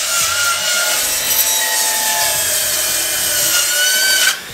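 A hand saw cuts through a wooden piece for a home half rack, making a loud, close, continuous rasping stroke sound that ends abruptly as the cut finishes.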